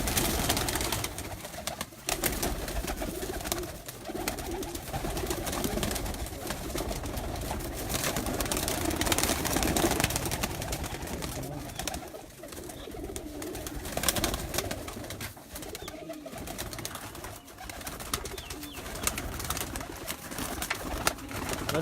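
Pigeons coo continuously on a rooftop loft, a busy chorus of overlapping throaty calls mixed with wing flutters and shuffling, close and steady for a long stretch without talk.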